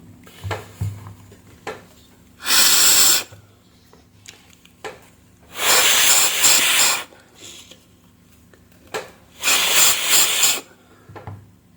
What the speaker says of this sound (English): passing the air from this valve